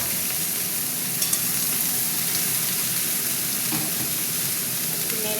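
Vegetables fry in a pan at a picnic cookout, a steady crackling sizzle with a few faint clinks and scrapes, moderately close and with no talking.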